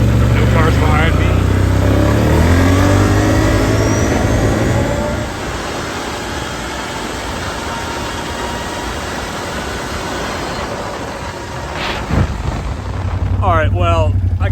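A four-wheeler ATV engine runs loudly while riding, a steady close roar with wind buffeting that eases midway and swells again near the end, with talking heard over it.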